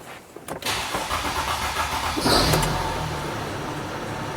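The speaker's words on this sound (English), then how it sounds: "So I'm gonna start the engine now." A Mercedes Sprinter diesel engine cranks briefly with a few sharp clicks, then catches and settles into a steady, moderately loud idle, heard close up with no talking.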